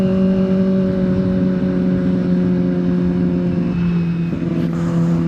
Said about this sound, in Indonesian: engine sound nggak sampai merah